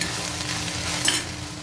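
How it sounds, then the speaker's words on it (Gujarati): Okra curry being tempered and fried in a pan, giving a steady close sizzle with a soft stirring scrape and one brief sharper crackle midway, no voices. "શાકને વઘારી દઈશું."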